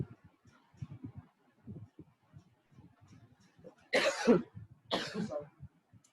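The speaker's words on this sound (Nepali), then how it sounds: "एकदम खोकी लाग्छ कि" Two sharp, loud coughs from one person close by, breaking through quiet, low speech.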